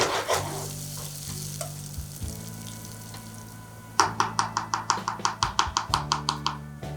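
Chili flakes sizzle in hot oil in a pan for aglio olio pasta, a steady fry crackle with faint hum, then a run of about a dozen sharp, evenly spaced scraping taps of a spatula against the pan.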